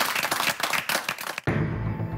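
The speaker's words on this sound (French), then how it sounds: "bonne applaudissement" Applause from a studio audience on a reality dating show, brisk dense clapping that breaks off and cuts to a sustained low rumble of crowd and music.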